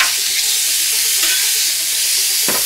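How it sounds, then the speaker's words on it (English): Bluefin tuna seared on a hot surface outdoors, a loud, close, continuous hiss of sizzling with a couple of brief sharper spits. "just putting a quick sear on it"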